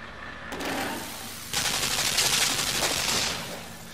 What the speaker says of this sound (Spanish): tendremos que utilizar la ametralladora para que se caiga la cuerda esa.